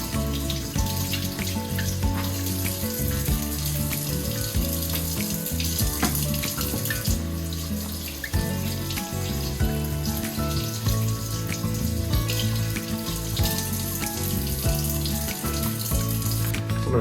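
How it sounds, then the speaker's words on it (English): Tap water runs steadily into a kitchen sink, splashing as brine is rinsed off turkey pieces, loud and continuous with shifting splatter as the meat is moved under the stream. "And I'm just going to rinse the brine off."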